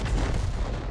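Video game 105mm leFH18 howitzer firing, a single heavy deep boom with a rolling low rumble over about a second, loud and close.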